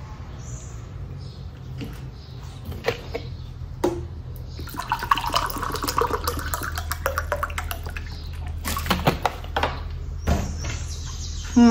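Water poured into bread dough for homemade salt bread in a kitchen, a short splashing pour among clinks and handling noises, close by.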